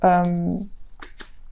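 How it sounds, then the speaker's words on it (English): Witches Tarot deck cards shuffled by hand: a few quick, soft papery riffles close by, following a short stretch of a voice speaking. "We are going to be pulling 5 cards from the Witches Tarot deck plus the Romance Angel cards."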